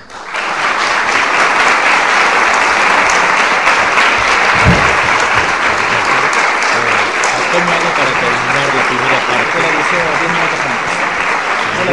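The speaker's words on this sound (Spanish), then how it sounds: "yo también le pido a ustedes un fuerte aplauso para el Padre Sáenz" Loud, dense audience applause for a priest giving a lecture on the Arian heresy, a continuous roar of many hands clapping that holds steady for the whole stretch.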